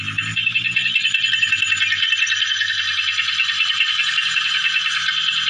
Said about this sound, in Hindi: यहाँ आप खटखट और ठोकने पीटने जैसा शोर सुन सकते हैं